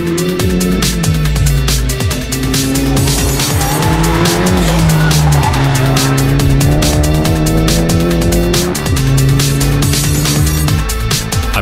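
A Class T Ferodo VW Golf GTI race car slides on track on cold tyres, its engine droning loud and steady while the tyres squeal continuously through the slide.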